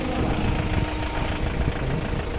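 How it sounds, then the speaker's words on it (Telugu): A steady low rumble of vehicles lined up idling at an auction fills the air, continuous and fairly loud, with no talking. "ఇవన్నీ స్టార్ట్ చేసి పెట్టారు, మీకు సౌండ్ కూడా వినొచ్చు, ఇంజన్ సౌండ్."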